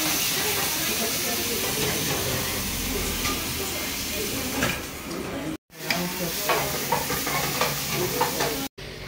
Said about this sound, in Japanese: 鶏肉をバターで炒めるという